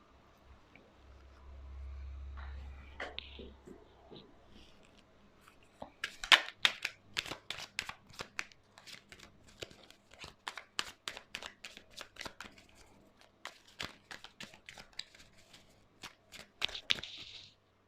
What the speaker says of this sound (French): nous allons retourner les cartes ensemble